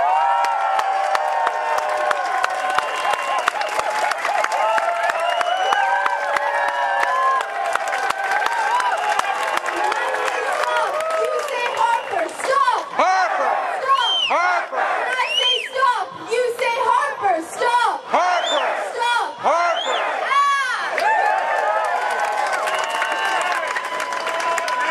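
A festival crowd at the G20 Redux Freedoms Festival welcomes speaker Brigette DePape with loud, sustained applause, dense clapping threaded with whoops and cheers that grow more excited in the middle before settling into steady clapping.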